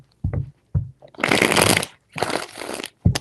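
Tarot cards shuffled by hand in a few quick bursts: short taps at the start, then two longer riffling rushes of crisp card flutter, close and fairly loud with no talking.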